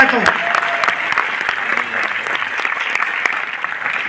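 A crowd at a success celebration event in Delhi breaks into sustained clapping. The applause is dense and continuous, with a voice speaking faintly underneath the hands.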